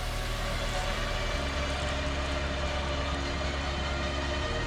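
A winch pulls a Jeep Gladiator in a loud, steady mechanical drone that runs throughout. The pitch shifts partway through.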